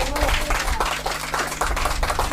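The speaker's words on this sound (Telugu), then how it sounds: "ఒకసారి చప్పట్లు కొట్టండి గట్టిగా." A church congregation claps hands loudly, a dense, continuous rattle of many overlapping claps that stays strong for the whole brief stretch.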